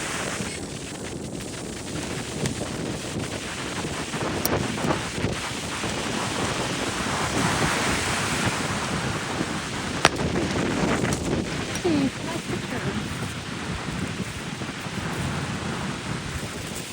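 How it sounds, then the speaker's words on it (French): Strong wind blowing steadily by the sea, a loud roaring rush with constant microphone buffeting and a low surf-like rumble across the whole stretch, no voices. "Mais le vent est beaucoup trop fort."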